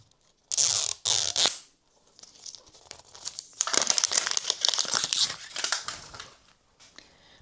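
A plastic wrapper on a heavy surprise package crinkles and tears as it is opened, with two sharp loud bursts early, then a longer stretch of rustling and crumpling close by.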